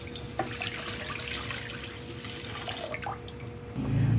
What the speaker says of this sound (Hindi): सबसे पहले हम दूध डालेंगे।